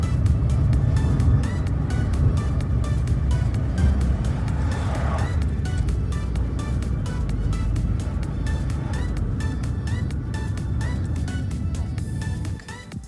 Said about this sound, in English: this is Ioniq 6. Let's go for a test drive.